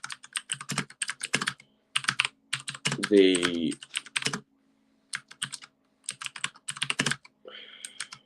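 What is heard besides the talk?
typing on a computer keyboard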